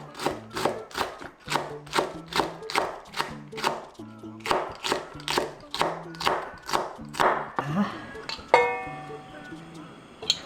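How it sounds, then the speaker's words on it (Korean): Cheongyang chili peppers minced with a knife on a cutting board, a steady run of close, evenly spaced chopping knocks for about eight seconds before a brief clatter near the end. "청양고추 4개. 같이 반만 넣어서 다져줄게요."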